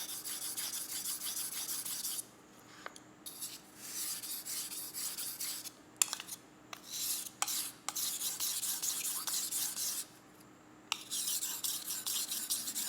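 A kitchen knife scrapes in repeated back-and-forth strokes across the 1000-grit side of a two-sided whetstone, a close, steady rasping rhythm broken by short pauses, with no talking.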